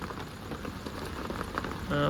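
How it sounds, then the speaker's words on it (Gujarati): Steady rain falls on surfaces at a village shop during a thunderstorm, a dense close patter of drops that holds constant and swells slightly louder at the very end, with no talk. "વરસાદ ચાલુ થઈ ગયો છે"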